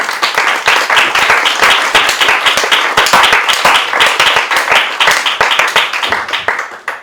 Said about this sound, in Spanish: Un aplauso para el profesor, por favor